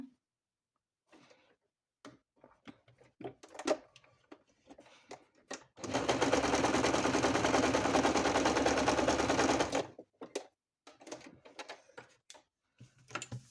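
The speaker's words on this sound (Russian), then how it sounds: "Отгибаю, фиксирую, прокладываю декоративную строчку." A sewing machine runs steadily for about four seconds, laying a decorative stitch across patchwork fabric, with scattered handling clicks and taps before and after the run.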